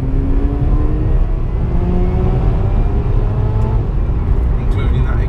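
A very standard stock Mazda with a worn exhaust due for replacement drones steadily from the cabin, a loud continuous low engine and road rumble with faint tonal whine, while a voice talks over it.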